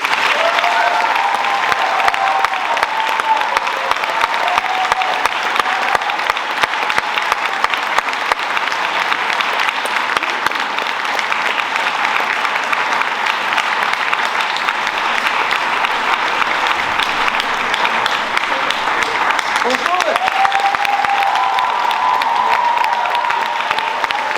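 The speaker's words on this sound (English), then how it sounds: "can we just have a round of applause for Paul, please?" Sustained applause from the audience at a 2022 carol concert, a broad continuous roar of clapping with some cheering mixed in, holding steady at full strength for a long stretch before easing slightly.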